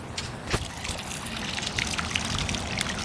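Water from two garden hose pipes runs into a backyard swimming pool, a steady close trickling and splashing with small sloshing bursts throughout.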